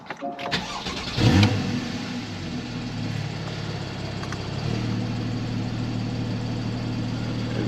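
A Porsche 911 Carrera 4S coupe with the 50th Anniversary package cranks briefly and fires up with a loud bark, then settles into a steady, throaty idle close by.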